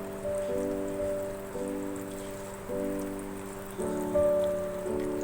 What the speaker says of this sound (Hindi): ऑयल गर्म हो गया, मैं इसके अंदर ये चपली कबाब रखूँगी। फ्लेम पे फ्राई कर रही हूँ मैं।